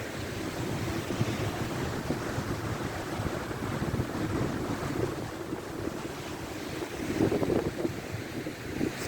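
Floodwater of the River Esk rushing down the Eskdale valley after overnight flooding, a steady broadband roar of churning water with gusts of wind buffeting the microphone, continuous and fairly close, no voices.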